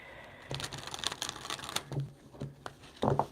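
Tarot cards being shuffled at close range during a reading, giving soft papery riffles and flicks in short bursts with brief pauses, quiet and alone without talk.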